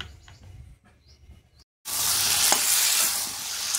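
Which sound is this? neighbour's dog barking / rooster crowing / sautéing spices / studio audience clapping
sautéing spices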